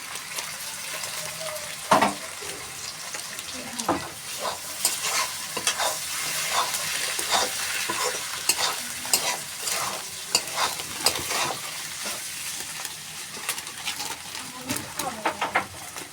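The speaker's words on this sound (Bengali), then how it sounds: "এখানে আলুটা ভেজে ভেজে নিচ্ছি" Potatoes fry and get stirred in a pan while Qurbani beef dishes are cooked, giving a steady sizzle broken by repeated scraping stirs, close and moderately loud throughout.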